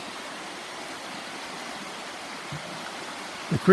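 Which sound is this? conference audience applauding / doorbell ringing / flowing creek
flowing creek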